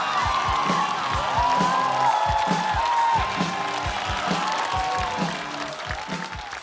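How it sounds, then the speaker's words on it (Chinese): An audience at a stand-up comedy show applauds to welcome a comedian to the stage, sustained clapping with some cheering over a rhythmic musical beat, fading slightly toward the end. "我们掌声听听怎么回事，掌声欢迎杨仔儿。"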